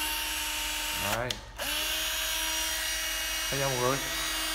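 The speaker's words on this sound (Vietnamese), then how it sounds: "khoan Hitachi 12V rất là êm luôn" A Hitachi 12V cordless drill spins up twice in short bursts, its whine rising and falling in pitch, heard up close over a steady background hum with no talk.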